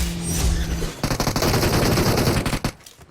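Rapid automatic gunfire in PUBG Mobile, a dense burst of loud cracking shots lasting about two seconds after a brief lead-in, ending with a couple of final bangs and then fading out.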